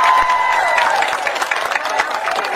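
A crowd at an outdoor political rally in Samran, Thailand, claps for Thanathorn Juangroongruangkit, a loud, dense, steady applause that continues throughout.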